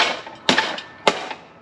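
A hammer strikes the edge of a car suspension bushing twice, about half a second apart, each a sharp close metallic smack that rings briefly before fading.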